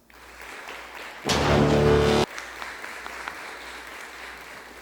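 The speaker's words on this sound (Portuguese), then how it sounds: "Palmas." Audience applause at a live podcast event bursts out for about a second, dense and close, then drops back to quiet room noise.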